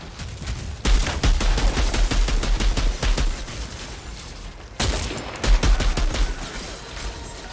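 Gunfire in the game Outriders: dense bursts of rapid automatic shots, close and loud, in two volleys separated by a short lull, with no talk.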